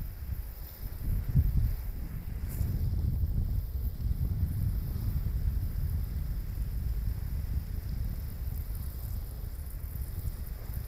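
Water sprayed over leafy greens and bottle gourd plants on a vegetable farm in winter, a steady broadband hiss like rainfall that runs continuously throughout, close to the microphone with no talk over it.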